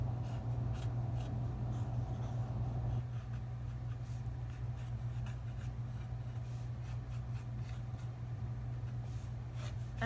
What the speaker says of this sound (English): So I'm gonna draw that.